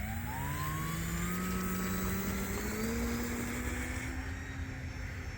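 An E-flite Decathlon RJG 1.2m RC airplane takes off on a rainy day, its electric motor whining steadily with a rising, drawn-out tone that holds near and loud throughout.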